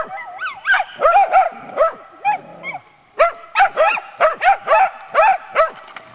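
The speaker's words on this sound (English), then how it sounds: "The dogs are very nervous." Several nervous dogs barking and yipping in quick repeated bursts, loud and close, with a short whimpering pause midway before the barking resumes.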